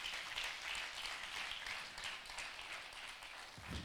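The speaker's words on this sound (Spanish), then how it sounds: "Y yo quiero que usted se dé un fuerte aplauso a usted mismo por estar aquí." A church congregation claps together in a steady, soft wash of applause that carries on without a break, quiet and somewhat distant, with no voices rising above it.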